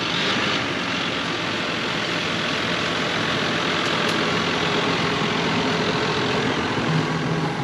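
A tractor engine idles in a hay field, a broad, continuous droning roar that stays loud and steady throughout with no speech over it.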